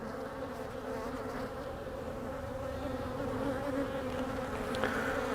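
Honey bees drone steadily inside an opened beehive infested with small hive beetle larvae, a close, dense, continuous buzz holding even throughout with no voices.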